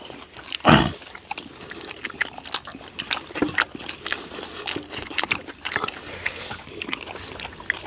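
Close-up wet chewing and smacking from someone eating pork belly with spicy kimchi, with irregular soft bites and slurps and one louder crunchy burst near the start.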